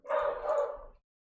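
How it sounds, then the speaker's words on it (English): A dog barks in a single continuous burst of about a second, fairly close and loud, then silence. "I'm sorry about the dog barking in the background"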